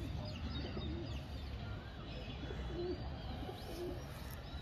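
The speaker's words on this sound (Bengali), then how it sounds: "খুব সুন্দর মাদি আছে। তাকি চোখ পায়রা যাকে বলা হয়" Pigeons at a pigeon sale coo repeatedly in low, soft calls over a constant background hum, with other birds faintly present.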